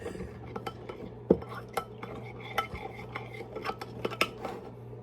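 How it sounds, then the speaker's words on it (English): A honey mixture for creamy stuffed salmon with shrimp and spinach being stirred in a bowl, quiet close scraping and sharp clinks of a utensil against the dish in an irregular rhythm over a faint steady hum. "So you just want to stir it until everything is incorporated."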